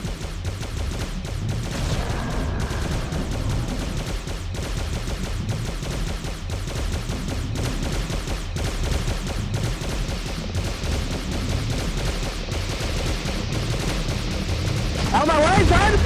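Rapid, sustained gunfire from the final boss fight in the N64 game Armorines: Project S.W.A.R.M., dense and continuous for the whole stretch, with game sounds mixed in and a swell of noise near the end.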